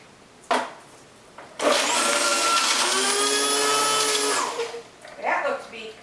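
An electric juicer grinds through a beet with a loud, steady motor whine lasting about three seconds, framed by brief knocks and bumps just before and after.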